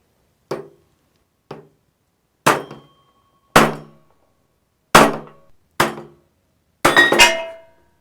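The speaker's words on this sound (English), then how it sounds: "knock it out with a hammer." A hammer drives a screwdriver to knock a metal-clad front seal out of a transmission pump, giving seven sharp metallic knocks at irregular intervals with silence between them, the final strikes coming in a quick cluster.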